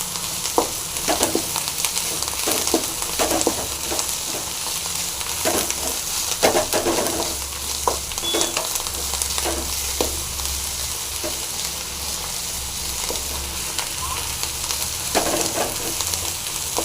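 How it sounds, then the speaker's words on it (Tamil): Keezhanelli (Phyllanthus niruri) leaves sizzle and crackle steadily in a hot pan, with intermittent scraping and stirring strokes throughout. "நல்லா ஃப்ரை பண்ணிக்கலாங்க"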